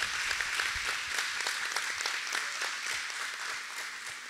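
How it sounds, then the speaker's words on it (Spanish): Audience applause at the end of a closing panel: dense, steady clapping from a crowd that carries evenly for several seconds, heard from a moderate distance with no talking. "Entonces, un aplauso."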